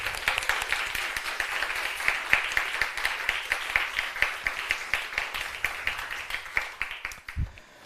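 Audience applause at an awards ceremony, a steady patter of many hands clapping at moderate distance, fading out toward the end, with no talk.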